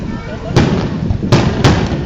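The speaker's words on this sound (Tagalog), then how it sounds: "Teka, Els, picturean mo kami ng background yung fireworks dali." Three sharp fireworks bursts boom out over steady crowd chatter at a pyrotechnics competition at SM Mall of Asia in 2008, spaced unevenly across a couple of seconds, loud and fairly close.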